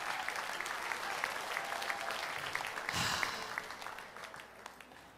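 A church conference audience claps steadily in a large hall, a dense, moderately loud patter of hands that swells briefly and then fades away.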